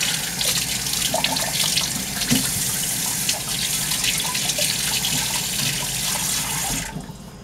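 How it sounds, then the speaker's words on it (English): A kitchen tap runs into a sink while hands are washed under it, giving a steady close splashing hiss with small irregular water spatters that stops abruptly near the end. "We're going to put the plate in the sink. And we're going to wash our hands"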